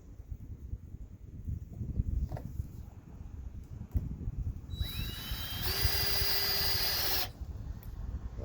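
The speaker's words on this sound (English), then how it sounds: "Line it up again with the center. Put your screws in." A cordless power drill drives screws into the wood of a garden bed outdoors, one rising whine of a couple of seconds standing out over a rumbling, windy background of handling noise.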